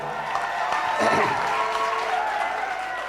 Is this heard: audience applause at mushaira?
yes